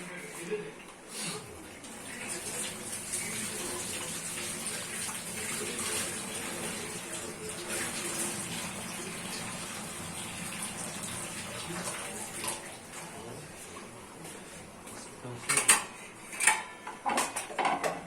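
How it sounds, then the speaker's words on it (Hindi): Fresh green coriander leaves rinsed under a running kitchen tap while cooking a Pakistani egg curry: a steady splashing stream with light clinks of dishes, as a person talks over it. "इस तरह से धो देते हैं हरा धनिया को।"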